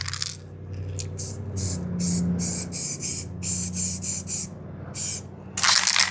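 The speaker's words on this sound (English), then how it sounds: "In theory, you're just supposed to spray that area right there," Dark green spray paint applied to cardboard: a series of short, loud aerosol hisses in quick bursts, with a longer final spray.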